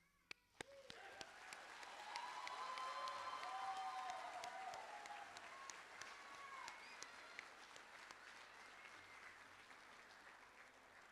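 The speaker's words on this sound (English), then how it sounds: "You deserve that round of applause." An audience at a nursing pinning ceremony breaks into sustained applause for associate degree graduates, rising quickly and holding as a dense, moderately distant wash of clapping with a few cheers.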